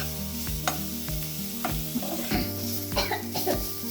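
Onions frying in a pan for samosa filling, a near, steady sizzle punctuated by repeated rhythmic stirring knocks and scrapes about every half second, with a brief cough-like sound mixed in.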